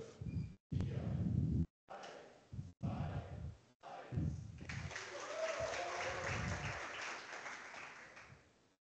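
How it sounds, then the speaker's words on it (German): At a tech conference, an audience claps for a lightning talk speaker; the first half is talk broken by abrupt cuts, then a steady, moderate wash of applause takes over and carries to the end. "Dann gibt es einen großen Applaus für den Lightning Talker"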